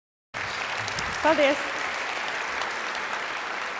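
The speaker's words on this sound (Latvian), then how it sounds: "Gaismā, rekur aplausi." An audience applauds a presenter after a talk, with steady, fairly close clapping from a crowd that starts abruptly and carries on evenly, while a single voice briefly speaks over it near the beginning.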